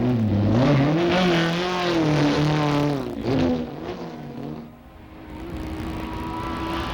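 A 1975 Formula Atlantic race car, the number 44 Penthouse Lola, roars past up close with rising and falling engine pitch, then fades to a steady distant drone of other cars.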